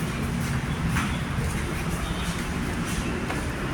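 A continuous rumble of a passing elevated MRT train, steady and moderately distant, with broad roaring noise and no talking.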